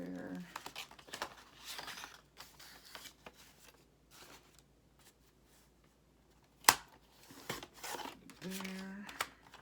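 Scissors cut through paper in a few short, close snips and rustles. A sharp crisp cut stands out among the quieter crinkling, while people chat softly nearby.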